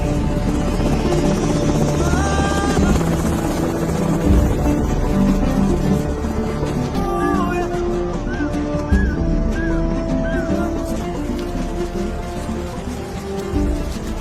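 A helicopter flies overhead in an action film scene, its rotor drone loud and continuous under a rumbling score, with a few short whistling tones rising over the din.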